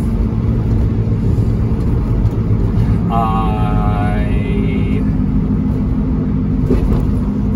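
A Kei truck engine drones loudly and steadily while driving on its first run after a gasket repair, a dense low rumble throughout with a brief whining tone rising over it midway.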